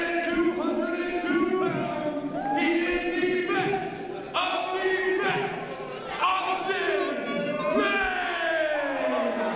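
A wrestling crowd at a CCW Chaos show roars for Austin Lane, with loud, sustained cheering and rising chanted voices swelling and falling across the whole stretch.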